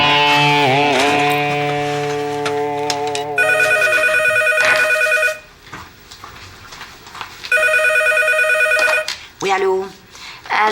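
A telephone rings in two long electronic trilling bursts, loud and close, with talk and a musical tone heard before the first ring.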